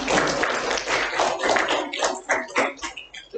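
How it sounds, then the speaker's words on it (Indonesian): Students in a classroom applaud group 2 after their presentation, with dense, fairly loud clapping that runs steadily before thinning out and tapering near the end. "kita beri aplaus untuk kelompok 2"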